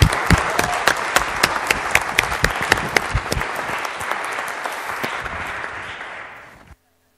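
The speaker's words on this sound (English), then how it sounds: "Can we give them a round of applause?" An audience at a church service bursts into warm applause, dense clapping with sharp individual claps standing out, holding steady for several seconds before fading and stopping.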